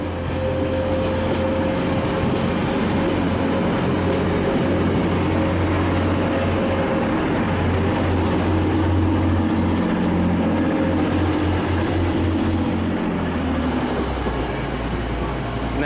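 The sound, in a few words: class 142 train, Northern service, at Manchester Piccadilly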